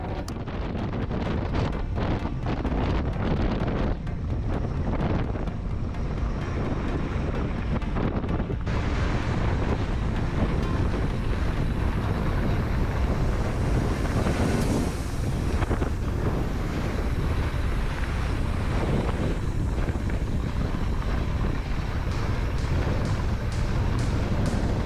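Wind buffets a mountain biker's GoPro microphone on a Southern Utah trail during a shuttle day, a loud, continuous roaring rumble that swells and dips and never lets up.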